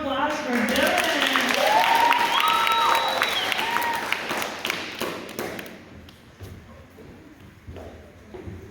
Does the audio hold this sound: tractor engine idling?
no